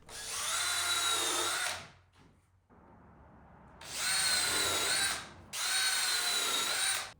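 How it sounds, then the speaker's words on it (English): A power drill with a countersink bit pre-drills screw holes in wooden boards for garage shelving, three loud whining bursts of a couple of seconds each, separated by short pauses, close to the mic with no talking. "go ahead and pre-drill all of your holes"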